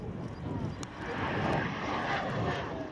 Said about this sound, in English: the Rolls-Royce Avon.